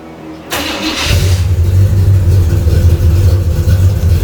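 A Chevrolet Camaro engine with a modified exhaust catches and settles into a loud, steady, droning idle, a deep rumble close by that fills the clip with no talk.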